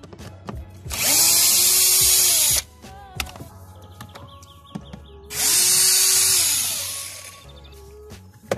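Power drill removing screws on a Renault Megane 2 while swapping the cabin air filter, two loud sustained whirring bursts of about one and a half and two and a half seconds, separated by quieter clicks and handling noises.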